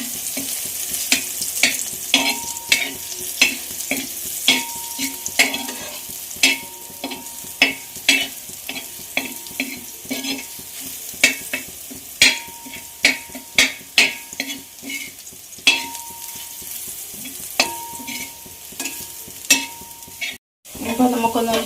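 Jackfruit seeds fry in ghee for a sweet payasam, a steady close sizzle broken by regular scraping stirs of a spoon against the pan, clinking rhythmically throughout.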